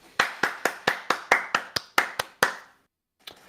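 A single person claps hands, about a dozen sharp, close claps in a quick steady rhythm, then a pause and one or two more, no talking.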